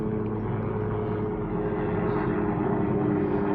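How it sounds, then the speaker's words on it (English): A propeller airplane drones steadily overhead in a garden, a loud, continuous engine hum with no voices over it. "Sorry about the plane."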